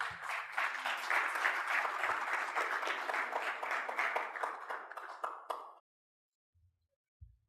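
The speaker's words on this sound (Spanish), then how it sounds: "Fuerte aplauso." An audience at a sports forum in Panama breaks into strong applause as a sports journalist is called to the stage, with dense clapping for about six seconds that stops abruptly, followed by near silence and a couple of soft bumps.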